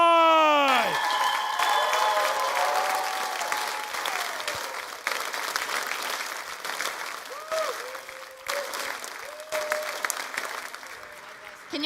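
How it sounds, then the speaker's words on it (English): An audience at a Saturday session applauds loudly for several seconds with scattered cheers, the clapping fading gradually as a voice starts speaking over it. "So give a big round of applause to one of our top 3 VPs, Aaron and Mike."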